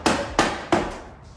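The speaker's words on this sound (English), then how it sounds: "I got a rubber mallet so it don't cause no damage" A rubber mallet strikes a Harley-Davidson Road Glide fork seal three times, pressing it into the greased fork leg: sharp, close knocks at an even pace, each followed by a short ring that fades.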